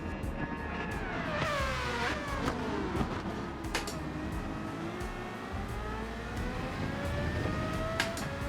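An old, overpowered Formula 1 car in Gran Turismo revs and accelerates, its engine pitch sweeping up and down repeatedly through gear changes, loud and continuous with no talk.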